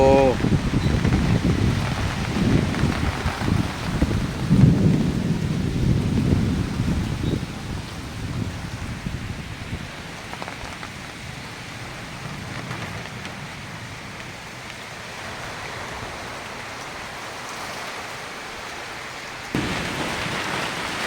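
First monsoon rain pours steadily on a Ratnagiri village, with wind and rustling leaves; voices talk over the louder opening stretch before the rain settles into a softer, even hiss that picks up again near the end.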